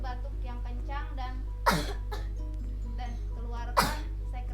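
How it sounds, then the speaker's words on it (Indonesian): A child gives two forceful, sharp coughs a couple of seconds apart during an effective-coughing exercise to bring up phlegm, with an adult speaking quietly in between over a steady low hum. "Lalu batuk yang kencang"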